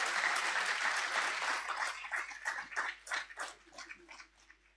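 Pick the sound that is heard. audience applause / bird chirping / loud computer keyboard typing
audience applause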